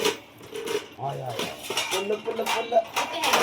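A small child bangs kitchen pots and metal utensils at home, giving scattered clinks and clatters in an uneven rhythm under an adult's nearby talk.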